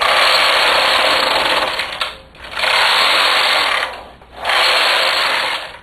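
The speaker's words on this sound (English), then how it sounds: "I'm setting the main bed to slip to the left and the ribber to slip to the right, and then I knit 3 rows." Knitting machine with a ribber attached, main bed and ribber set to slip in opposite directions, as the carriage is run across for rows: a loud continuous mechanical whirring rasp in long passes, broken by two brief pauses where the carriage reverses.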